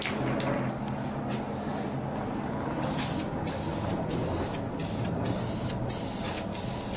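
Light coats of primer spray from a can onto a Datsun 280Z airdam outdoors, a close hiss coming in short repeated bursts with brief gaps, over steady background rumble.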